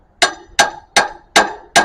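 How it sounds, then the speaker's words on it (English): Five sharp, evenly spaced metallic hammer strikes against a lawn mower flywheel, each a loud close clank with a short ringing tail and silence between blows. "Take the crowbar, take this hammer,"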